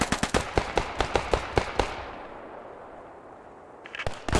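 Gunfire in the World War II shooter game Post Scriptum during a fight near a bridge: a rapid rattling string of shots, then a fading rumble from a blast, and more shots starting up at the end.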